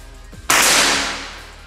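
A single sharp, loud shot from a stainless PCP air rifle cracks out after a brief quiet moment, its burst of noise fading over about a second.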